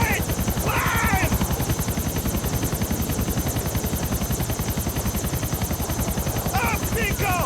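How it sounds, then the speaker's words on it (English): A helicopter in Grand Theft Auto IV keeps up a loud, steady rotor chop for several seconds while a voice briefly cuts in at the start and again near the end. "The apparently infamous helicopter glitch claims a new victim."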